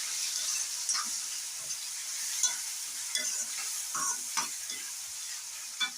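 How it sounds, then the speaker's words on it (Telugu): Chopped tomatoes are stirred into onions frying in a pan for egg tomato curry, a steady sizzle under repeated close scraping strokes of a spoon, with no voices. "టమాటాలు వేసేసుకొని కొంచెం కలుపుకోవాలి"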